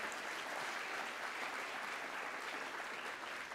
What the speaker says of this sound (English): I'd like to also join you in applauding a wonderful performance by students